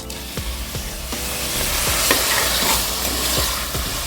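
Onions frying in a pan until their raw smell cooks off, a loud, dense sizzle with a regular series of scraping stirs and taps up close, and no voices.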